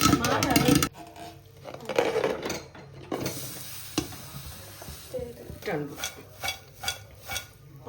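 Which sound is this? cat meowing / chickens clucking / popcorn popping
popcorn popping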